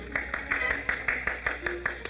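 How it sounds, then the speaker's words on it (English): A thin smattering of applause for a golfer on the course, staged as a radio drama effect: sparse, evenly spaced claps, fairly quiet and slightly distant over a steady background hum. "there was a smattering of applause like a matinee just before they closed the show"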